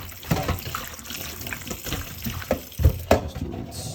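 Cold water splashing and running over salted Korean radish pieces being rinsed for kimchi in a sink or bowl, a close, steady watery wash with irregular sloshing bursts and no talking.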